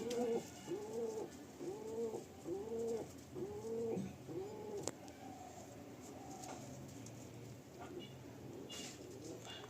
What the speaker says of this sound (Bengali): অসম্ভব সুন্দর কোয়ালিটির একটা কেটিএম পায়রা।